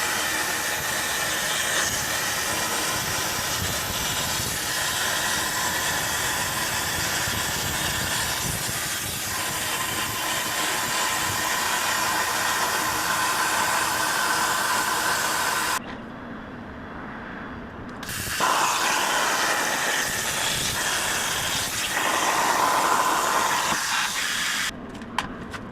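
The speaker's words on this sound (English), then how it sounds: "The plasma cutter I'm using in my CNC machine is my YesWelder" YesWelder CT2050 plasma cutter on a CNC table cutting gussets, a loud steady hissing roar that cuts off briefly, then resumes and stops again near the end.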